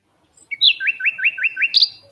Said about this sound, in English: Hear that? The sound of adorable little birds in your garden.